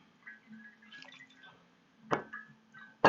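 Cold water squeezed by hand out of wet felting wool, a few faint drips and small splashes, then two sharper spatters near the end, quiet and close with no talking.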